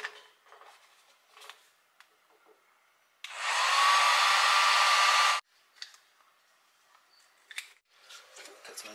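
A heat gun warming vinyl wrap on a car, blowing with a loud steady whoosh for about two seconds, with faint handling clicks and rustles before and after.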